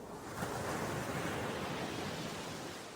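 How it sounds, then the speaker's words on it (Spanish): Ocean waves breaking against rotting wooden pier pilings, a steady roaring wash of surf with a windy hiss, continuous and fairly loud throughout. "donde las olas rompen contra los pilotes de madera podrida"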